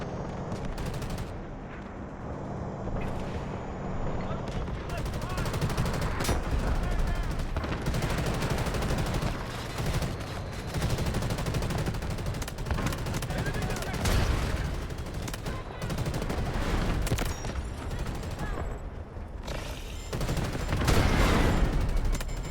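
Video game gunfire rattles almost nonstop: dense automatic bursts and sharp shots pile over each other amid a rumbling firefight, loud throughout, with a talking voice mixed in.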